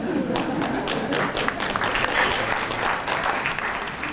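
A Diwali event audience claps after a poem recital, a short burst of steady, moderately loud applause from a modest crowd, lasting around four seconds.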